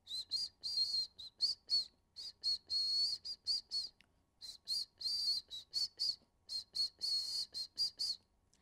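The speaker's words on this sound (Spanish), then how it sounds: "Los silbidos o pito es usado en distintas partes del mundo como medio de comunicación" A series of shrill, high whistles in short bursts and longer held notes, loud and close, forming an irregular rhythmic pattern with no talking.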